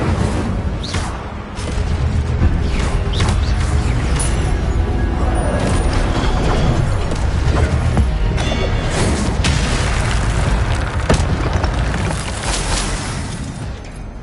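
Fiery spell blast from the Incendio charm in Hogwarts Legacy, a loud sustained roaring burst with crackling booms over dense game sound, swelling and flaring for several seconds.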